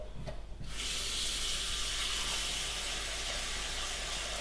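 Water from a kitchen tap gushes steadily into a pot for cooking pasta, a loud continuous splashing rush starting after a brief quiet moment.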